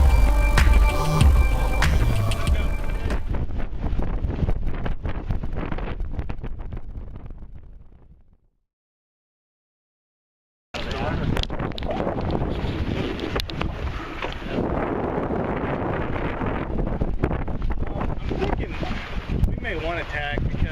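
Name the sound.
strong wind on a sailboat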